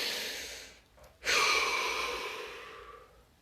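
A single deep breath is taken during a guided relaxation exercise. It is close and clear: a brief inhale, a short pause, then a long, slow, airy exhale that fades out gradually.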